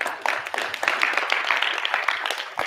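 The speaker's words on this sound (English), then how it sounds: "Give them a round of applause, guys." Audience applause at a motivational success seminar, a dense steady patter of many hands clapping throughout, fairly close and sustained without a break.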